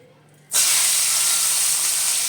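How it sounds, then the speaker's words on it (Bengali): Onions dropped into hot oil erupt into a loud, steady sizzle that starts abruptly and continues evenly, close up, with no talking. "গরম তেলের মধ্যে পেঁয়াজটা ছেড়ে দিলাম"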